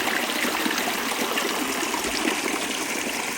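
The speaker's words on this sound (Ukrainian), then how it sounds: "Красиві пороги такі. А Ділан. Водичка жужжить." Mountain stream rapids rush and murmur in the Carpathian highlands, a steady, close, broadband wash of water that runs unbroken and fairly loud throughout, with no voices.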